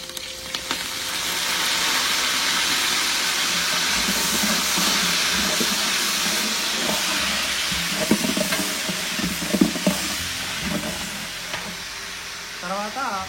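Masala, green chillies and mint sizzling in hot oil for veg biryani, a loud continuous hiss with repeated stirring scrapes and clinks building in the second half.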